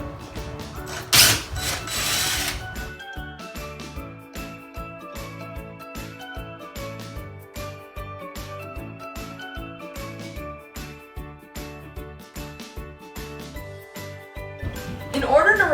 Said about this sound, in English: The sounds you're hearing is actually roofers on our roof putting on a new roof